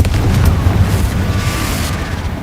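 A Confringo fire spell detonates in the Hogwarts Legacy video game, a dense, rumbling boom that swells early and then rolls on loudly for a couple of seconds with no one speaking.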